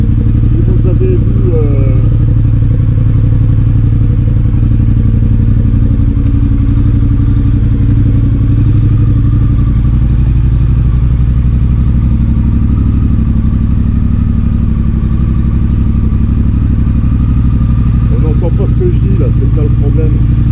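A Triumph Speed Twin motorcycle engine idles loud and close, a steady low rumble filling the whole stretch with faint clatter on top.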